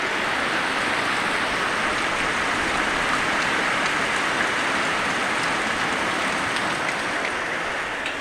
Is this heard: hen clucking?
no